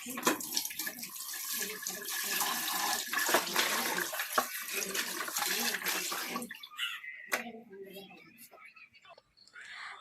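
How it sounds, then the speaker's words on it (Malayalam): Dishes, including a curry pot, are washed under a running tap, and a loud rush of water fills the first six seconds. It then breaks off into quieter clinks and a voice talking near the end. "ഇവിടുത്തെ പാത്രങ്ങളൊക്കെ കഴുകൽ കഴിഞ്ഞു കേട്ടോ"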